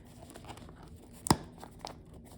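Someone opens a bubble-wrapped package. A single sharp tear stands out against faint crinkling, quiet and close, with no speech.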